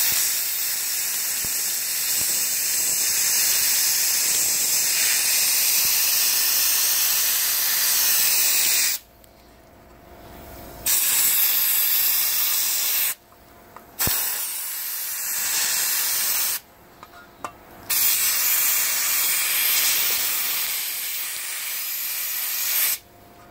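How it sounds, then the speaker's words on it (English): Sandblasting the edge of a Kawasaki KV75 MT1 fuel tank: a loud, steady abrasive hiss of spraying blast media, stopping briefly three times before resuming at full force. "now what I'm doing is I'm sandblasting the edge"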